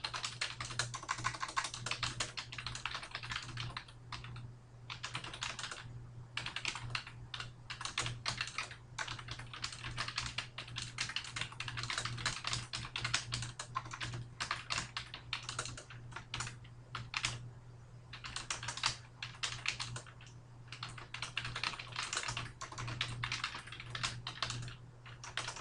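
Steady typing on a computer keyboard while writing a paragraph, a continuous patter of soft key clicks with brief pauses, fairly quiet over a low background hum, no voices.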